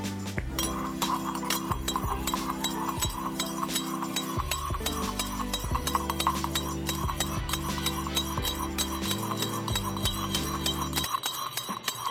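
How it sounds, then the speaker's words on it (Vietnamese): A spoon stirs oolong milk tea in a shaker, giving repeated bright metallic clinks and taps at an irregular quick pace, close up over soft background music. "Sau khi cho hết nguyên liệu vào trong bình lắc, mình khuấy đều hỗn hợp lên."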